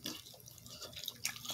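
Melted butter poured onto shrimp gives soft, close wet dripping and splattering over a second and a half, quiet and alone.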